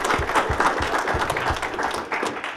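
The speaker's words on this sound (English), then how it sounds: "let's give her a round of applause" Audience applause for Roberta Hyman, an award recipient serving coffee at the back of the room, a steady wash of clapping from a modest crowd running throughout with some low thumps.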